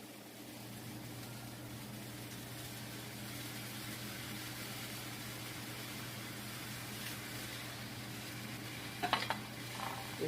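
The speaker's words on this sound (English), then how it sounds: "I'm going to add my tomatoes." Tomatoes sizzle softly in a pan of sautéed onions for a Mexican-style pork and squash dish, a faint steady frying hiss over a low hum, with a few small clinks near the end.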